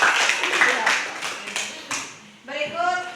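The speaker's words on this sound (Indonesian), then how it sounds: "Oke, beri aplaus untuk" Classroom applause for a student group's presentation: a patter of hands clapping in the first half that thins out and fades, followed by a person speaking.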